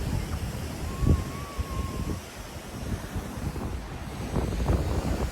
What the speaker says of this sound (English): That's the inlet, the Boca Raton Inlet, right out to the Atlantic Ocean.